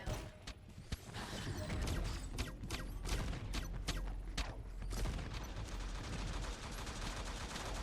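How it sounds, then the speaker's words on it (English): Gunshots in the T3 Arena shooter game, a rapid volley of sharp, loud shots fired in quick bursts over a continuous rumble of game action, with no talking. "Whoa, those shots, like, scared me"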